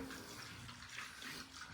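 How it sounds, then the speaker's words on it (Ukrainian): Water sloshing and swirling as a mix of 96% alcohol and water is stirred for vodka at about 1.4 litres of water per litre of spirit, a steady close, even liquid wash with no talk. "Ну і тепер добре перемішаємо, щоб пішла реакція."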